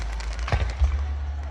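A town fireworks display booms overhead, with two deep, close thuds standing out from a continuous rumble and crackle of bursts.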